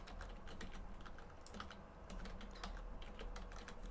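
Fingers tap on a computer keyboard, a quiet close run of irregular clicky keystrokes over a low steady room hum, with no voices.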